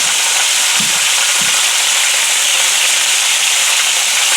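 Seasoned meat with rib rub and Cajun seasoning sizzles in a hot skillet, a loud, steady hissing fry that runs the whole time with a couple of soft low knocks near the start.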